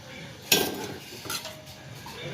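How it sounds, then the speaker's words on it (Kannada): A spoon scrapes and knocks against a metal pot while millet porridge (ambali) is stirred, with one sharp clank followed by softer scraping, close and alone. "ಅದನ್ನು ಕೈ ಬಿಡದೆ ತಿರುಗಿಸ್ತಾ ಇರಬೇಕು, ಇಲ್ಲಾಂದ್ರೆ ಗಂಟು ಬಿದ್ದುಬಿಡುತ್ತೆ."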